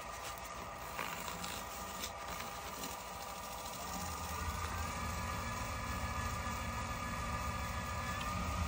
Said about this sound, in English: I'm gonna put the lathe on low speed at first so it doesn't fling polish all over the place